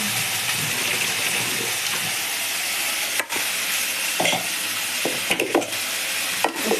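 Paneer fries in a pan on a gas stove with a loud, constant close sizzle, broken by a few clinks and scrapes as it is stirred, no voices.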